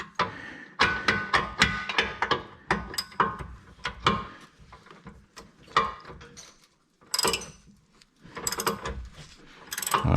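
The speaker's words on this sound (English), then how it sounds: "Start tightening this thing down." Bursts of close ratchet-wrench clicking as a bolt is tightened on the control arm of a sixth-generation Ford Taurus suspension, with brief pauses between runs.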